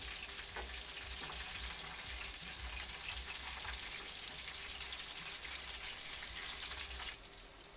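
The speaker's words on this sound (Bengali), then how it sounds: "দিয়ে এবার আমি কম জালে ভাজা করবো" Chicken pakora frying in oil over a low flame gives a steady, even crackling sizzle that holds at moderate loudness throughout, with faint scrapes, then drops away slightly at the very end.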